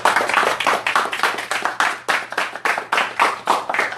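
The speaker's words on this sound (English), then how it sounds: "Give yourself a big round of applause." A small panel audience at a live forex event claps in a modest round, individual hand claps distinct and uneven, close and fairly loud with slight pauses between bursts.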